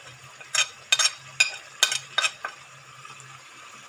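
Spices such as cinnamon, cloves and black pepper frying in hot oil in a karahi for chicken karahi, heard as a run of short, bright sizzling bursts with stirring scrapes and no talk.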